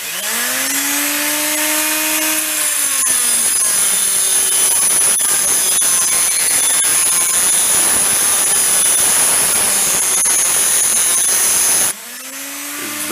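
A power tool grinds and cuts through thick 3/16 inch metal in a shop, a loud, steady high-pitched screech that holds for about nine seconds between the motor spinning up and winding down.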